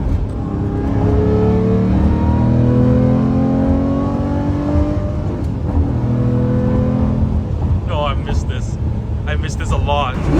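A Lamborghini engine revving hard in a full-throttle pull on the Tokyo Wangan expressway at night, a loud sustained rising roar heard from inside the car, with a few sharp higher chirps near the end.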